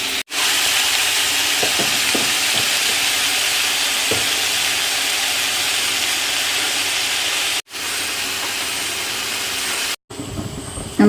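Raw plantain and long beans sautéing in a pan, a loud continuous frying hiss with occasional spatula scrapes and stirring knocks, briefly cut off twice.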